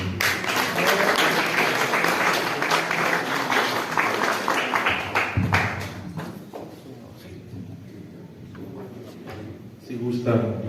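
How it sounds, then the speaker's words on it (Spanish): An audience applauds a visiting priest before his talk on the liturgy, the clapping thick and steady for about six seconds before thinning out beneath voices. "Pedimos pues un fuerte aplauso para él."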